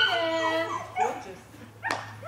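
A Tibetan Terrier gives a drawn-out whimpering whine, then short yips and a sharp bark, close and fairly loud over a low background hum.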